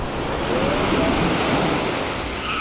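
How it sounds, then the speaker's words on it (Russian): Sea waves break and wash onto a beach at Alanya in August, a loud continuous roar of surf mixed with wind buffeting the microphone, with no talk over it. "А тут как-то волны, что ли, больше, или мне кажется."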